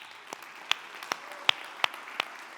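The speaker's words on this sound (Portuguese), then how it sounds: "Esse líder merece uma salva de palmas." A church congregation gives scattered, isolated handclaps, about seven sharp claps spread unevenly over a few seconds at moderate distance, with a soft room murmur between them and no one speaking.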